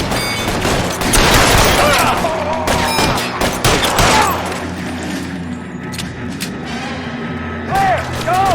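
Dense, continuous gunfire from a police shootout in the 1940s Los Angeles crime game L.A. Noire on Xbox Series X, with bursts and booms crowding the clip and a voice calling out over the fire.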